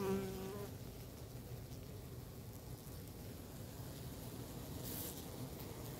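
Honey bees swarm and buzz steadily outside a hive on a hot day at an apiary, a dense continuous insect drone filling the whole stretch with no talk.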